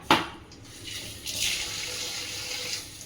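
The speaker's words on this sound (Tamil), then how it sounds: "தண்ணி தெளிச்சுக்கோங்க." Water splashes out of a tap as it is sprinkled during fish curry cooking in a home kitchen, a sharp burst at the start, then a steady running flow that lasts about two seconds.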